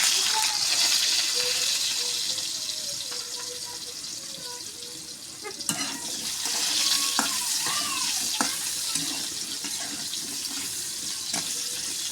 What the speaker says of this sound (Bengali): এখন আলু কটা একটু ভাজে নেব